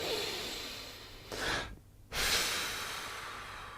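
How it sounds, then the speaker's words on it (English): Breathing exercise with a double inhale: a nasal inhale followed by a short mouth inhale, close and clear, with a brief quiet pause before the second breath and no talking. "this breathing pattern, 3-second nasal inhale, and the 4th is a mouth inhale, which creates kind of like a double inhale"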